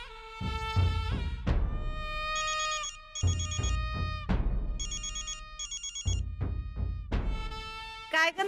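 A mobile phone rings with an incoming call in a Marathi TV serial scene: a bright, melodic electronic ringtone repeats its plucked-note phrase over and over, loud and close, with no voices over it.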